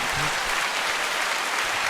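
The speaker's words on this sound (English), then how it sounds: "Yeah, round of applause." A round of applause from a small group, a dense steady wash of clapping that holds evenly throughout.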